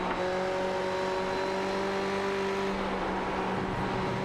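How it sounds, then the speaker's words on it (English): Ferrari race car engines at Le Mans in the iRacing video game, a steady, loud engine drone with sustained tonal whine, no voices over it. "Just lovely to hear the Ferrari engines for a wee moment there."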